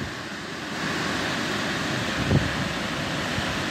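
Wind roars steadily outdoors for the whole stretch, a broad constant rush with a faint bump near the middle and no talking.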